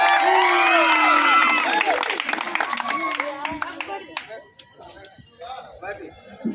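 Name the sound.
audience applause for winning school sports team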